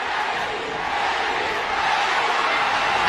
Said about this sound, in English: Pacquiao crowd chanting Manny,